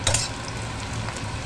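Dried red chilies sizzle in hot oil in a pan while a bitter gourd (chichinga) fry is being prepared, a steady close crackling hiss with a slight stirring scrape at the start.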